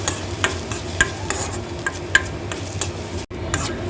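Garlic frying in a steel pan, stirred with soft scraping and occasional light clicks of a utensil against the metal, over a continuous low sizzle, close by.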